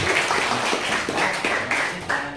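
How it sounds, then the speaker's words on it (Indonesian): Students clap for a group after a classroom presentation, a close, uneven patter of hands with a few sharper bursts over about two seconds. "Tepuk tangan dulu buat kelompok 2."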